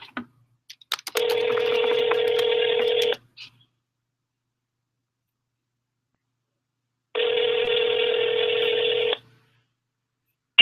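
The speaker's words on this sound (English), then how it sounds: "let me call him back. I'm going to put him on speaker." A phone on speaker places an outgoing call: two long, loud, steady ringback tones a few seconds apart, with faint clicks before the first and silence between, no talking.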